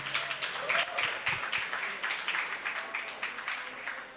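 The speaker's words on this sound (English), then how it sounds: "Let's give them a round of applause." Applause for sponsors at a high school sports and performing arts awards ceremony: a steady crowd clapping that keeps going for about four seconds, fairly faint and heard from a distance.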